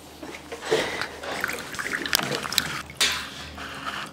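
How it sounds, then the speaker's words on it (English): Liquid microbial inoculant drips in a few separate small plinks over a soft background hiss, close and quiet, spaced irregularly a fraction of a second apart. "Drip, drip."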